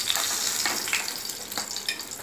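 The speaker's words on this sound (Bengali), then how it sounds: "আস্তে আস্তে মাছগুলো ভেজে নেবো" Pieces of katla fish fry in hot oil in a pan over medium flame for Bengali katla kalia, a steady close sizzle with bubbling pops throughout, no voices.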